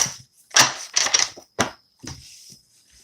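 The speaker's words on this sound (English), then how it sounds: "let's just shuffle these cards" Tarot cards being shuffled by hand, heard as a handful of short, crisp riffling and flicking bursts with pauses between them, close to the microphone, with no talking.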